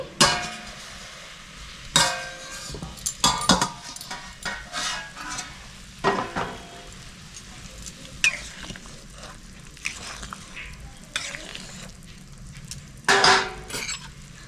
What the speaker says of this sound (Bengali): দশ মিনিট হয়ে গেছে, আমি ঢাকনা খুলে নিচ্ছি।